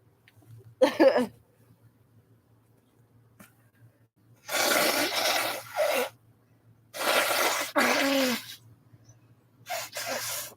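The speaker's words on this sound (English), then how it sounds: "Excuse me, I need to blow my nose for a second." Several loud, breathy nose-blowing bursts from a person, each lasting about a second or more, separated by short pauses and close to the microphone.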